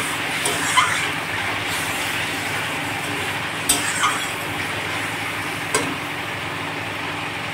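Spice paste for fish curry is stir-fried in a pan, giving a steady soft sizzle with a few sharp scraping clinks of a spatula against the pan scattered through.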